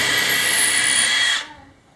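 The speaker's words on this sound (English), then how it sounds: "I was prepared for a drill bit breakage" A loud, close power drill whirs steadily at high speed, then cuts off abruptly, leaving near silence.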